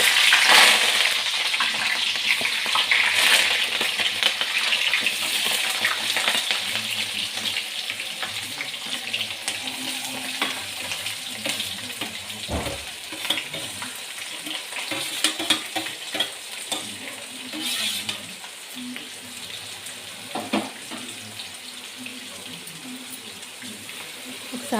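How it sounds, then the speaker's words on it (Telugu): Onion, green chillies and curry leaves fry in hot oil in a pan, giving a continuous loud sizzle and crackle with occasional stirring scrapes throughout. "ముందుగా కట్ చేసి పెట్టుకున్న ఆనియన్, పచ్చిమిర్చి, కరివేపాకు ప్యాన్లో వేసుకోవాలి."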